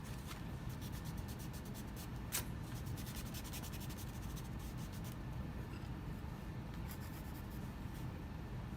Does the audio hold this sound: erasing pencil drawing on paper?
yes